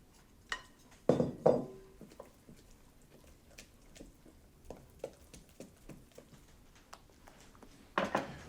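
A wooden spoon stirs pancake batter in a bowl, giving faint scattered taps and soft scraping knocks, with a few louder clinks at intervals.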